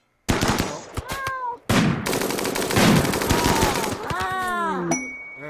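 Colonists in RimWorld form a firing line and shoot at a mad animal during a caravan battle. Rapid, dense bursts of gunfire crackle loudly and almost continuously, and sharp animal cries break through the shooting.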